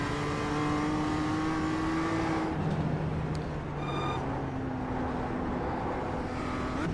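A race car engine in the iRacing sim racing game holds a steady high-pitched drone, easing off and climbing through gears as the car runs around the track, with no talking.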